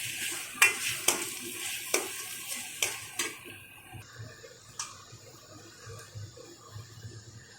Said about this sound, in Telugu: ఇందులో అల్లం వెల్లుల్లిపాయ పేస్టు వేసి పచ్చి వాసన పోయే వరకు వేయించుకోవాలి.